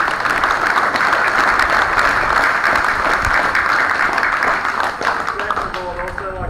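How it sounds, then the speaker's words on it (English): Steady, loud applause from a school crowd at an outdoor parade, dense clapping filling the whole stretch before thinning slightly near the end, with some voices mixed in. "So can we have a round of applause for anyone who helped out?"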